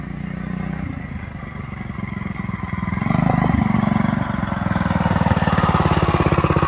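A kids' 125 Chinese ATV converted to a Predator 212 engine idling and running at about half throttle nearby, a loud steady thumping single-cylinder chug that rises slightly in pitch partway through, with no talking.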